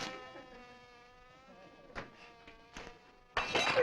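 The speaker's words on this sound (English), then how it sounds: "these bees, pesky things are getting to be a nuisance around here" Bees from backyard beehives drone steadily in a tonal, harmonic buzz through the scene, near and moderate in level, broken by a few sharp thumps and a louder burst of noise at the end.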